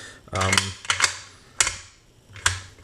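A Ruger Precision Rifle bolt action with a full-diameter bolt body is cycled, giving a few sharp metallic clacks and slides spaced irregularly over a couple of seconds, close and fairly loud.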